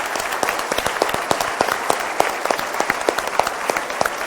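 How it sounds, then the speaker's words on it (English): An audience applauds after a Naughty Dog technical art talk: dense, steady clapping with sharp individual claps popping out of the wash, loud and sustained throughout. "Let's give them a nice round of applause."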